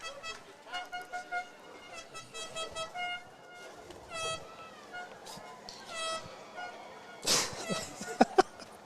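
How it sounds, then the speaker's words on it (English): Outdoor crowd noise at a high school football game with honking tones throughout, then a sudden loud air horn blast near the end, followed by a few sharp cracks. "I got an air horn out here"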